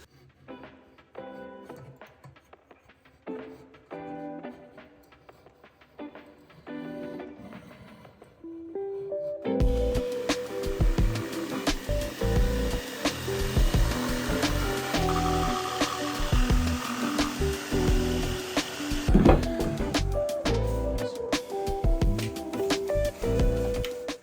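A saw cuts a scribed wooden skirting board during finish joinery, with a loud, steady sawing roar that starts partway through and carries on to the end, after a quieter stretch of light handling noise.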